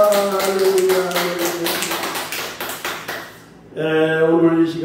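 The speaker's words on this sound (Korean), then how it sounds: "모든 영광 하나님께 영광의 박수 올리겠습니다." Congregation applause at a Korean church revival service, a burst of rhythmic clapping over a sustained organ or keyboard chord, briefly fading before the music swells again.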